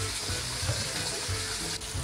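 Pasta water from cooked spaghetti pours steadily through a strainer in a kitchen, giving a constant loud rushing splash with no voices.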